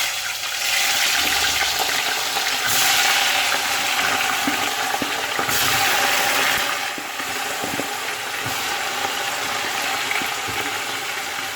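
Young potatoes go into hot oil on a stovetop, giving a loud, dense hiss with surges and scattered knocks and rattles of the pan being handled.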